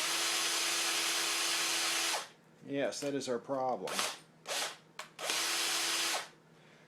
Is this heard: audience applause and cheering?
no